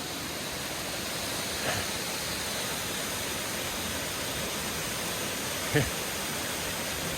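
Steady broadband rush of a waterfall beside the Appalachian Trail, a constant close wash of falling water with two brief faint knocks partway through and no talk.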